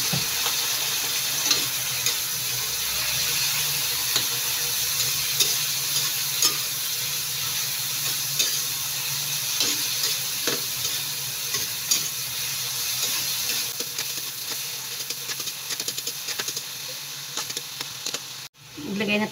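Chicken frying in a pan for adobong kangkong with tokwa, a continuous bright sizzle with scraping stirs and occasional spatters, the hiss cutting off abruptly near the end.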